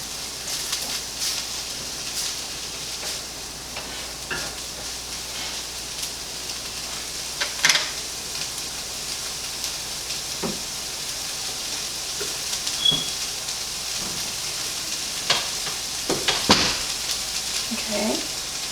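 Vegetables for a vegan quiche cook in a pan, a soft continuous sizzle with occasional scrapes and clatters of stirring, and a voice speaks intermittently.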